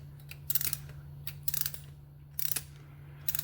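A ratchet with a 22 socket snugs down a bolt during a VW Golf Mk5 front spring replacement, giving four short bursts of rapid clicking pawl ticks against a steady low hum.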